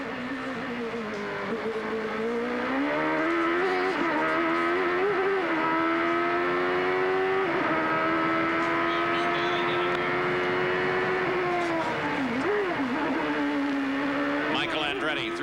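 Race cars in the 1992 CART IndyCar round at Surfers Paradise scream past at speed, a loud, sustained engine whine that rises and falls in pitch as they shift and brake, continuous throughout.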